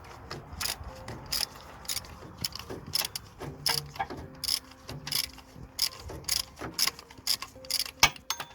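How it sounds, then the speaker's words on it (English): A ratchet with a hex head socket clicks in uneven bursts while loosening the timing belt tensioner bolt on a 2004 Honda Civic 1.7 CDTi, close and alone, with some metallic clanks between strokes. "I'm using a hex head and a ratchet just to give a bit more leverage"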